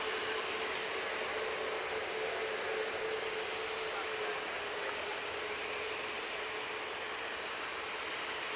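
Steady, loud aircraft engine roar at Manchester Airport, a continuous broadband rumble with a faint tonal whine, filling the whole stretch without letup.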